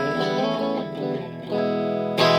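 Electric guitar played through a Hot Ice Sweet Distortion pedal into an Avery Jabo 45 amp with a 2x12 cab, neck pickup, giving thick, saturated sustained chords that shift once and finish with a brighter strum.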